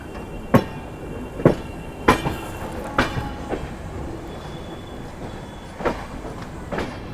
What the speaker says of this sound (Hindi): निकल गई ट्रेन अपनी जो है कानपुर सेंट्रल से